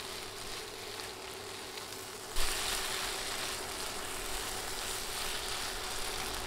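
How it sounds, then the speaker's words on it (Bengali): Eggplant pieces and egg fry with spices and green chilies in a pan, giving a steady, soft sizzle that jumps suddenly louder partway through and then holds a constant, hissing crackle to the end. "এবার নেড়ে নেড়ে সব কিছুক্ষণ ভেজে নিব।"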